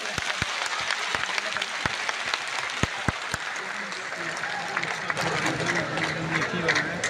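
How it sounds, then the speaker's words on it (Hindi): A political rally crowd gives a run of sharp, separate claps that fades away, and a man's amplified speech then carries on over the low murmur of the gathering. "जोर से ताली"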